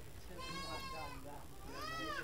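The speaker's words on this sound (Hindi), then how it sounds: "यहाँ पर देख सकते हैं बकरी का बच्चा है" A young goat bleats twice on a hillside settlement on Mumbra hill near the Pehalwan Shah Baba shrine, wavering nasal cries heard fairly close over a steady outdoor background.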